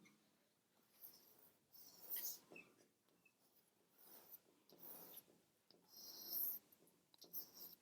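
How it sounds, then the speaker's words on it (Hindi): Pen or marker scratching across paper or a board while a mantra is handwritten, faint and close, in short irregular strokes with brief pauses between. "मैं इस मंत्र को लिखता हूं"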